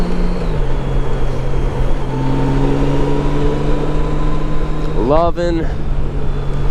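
A 2014 Honda Goldwing motorcycle cruising in second gear, its engine holding a steady low drone with wind noise, then rising briefly near the end; a voice speaks over it.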